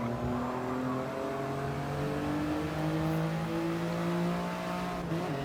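Toyota GR Yaris race cars at Fuji in the Gran Turismo video game drone with steady, overlapping engine tones at sustained revs, moderately loud and without commentary.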